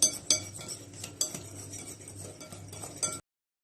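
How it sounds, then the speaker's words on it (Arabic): Sugar and eggs for cookies are beaten vigorously in a bowl, a close series of quick clinking and scraping strokes of a utensil against the bowl, no talk, ending abruptly in silence. "نخلط لما السكر يبقى كريمي قوي مع البيض قوي قوي قوي"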